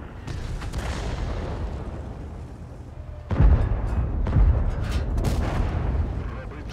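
Tank battle gunfire in a video game, with heavy booms and artillery-like blasts rolling over a constant rumble of combat, two sharp near impacts standing out midway.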